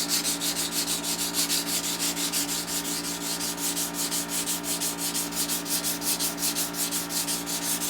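Steady hand sanding of shaped knife handle scales, fine sandpaper rubbing to contour an edge after oscillating spindle sanding, a continuous rhythmic scratching rasp of repeated strokes, close and fairly loud with no voices.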